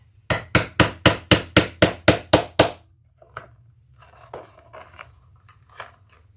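About ten quick, evenly spaced sharp taps drive a rivet through thick layers of a tote bag, each a crisp close strike. Softer scattered clicks and rustles follow.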